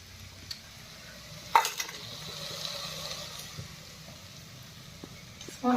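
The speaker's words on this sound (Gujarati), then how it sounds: "શું વઘાર્યું કોબીજ વઘાર્યું" Cabbage tempering and being stirred in a frying pan in a Gujarati village kitchen: a faint, steady sizzle with occasional soft scrapes and knocks of the spoon, heard from close by at low volume.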